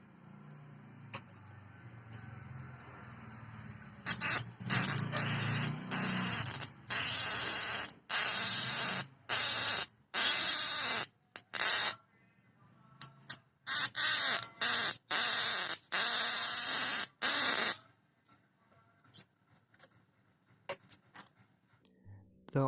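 Loud crackling high-voltage arcing from a homemade flyback transformer power supply, firing in repeated bursts with short silent gaps, then falling quiet.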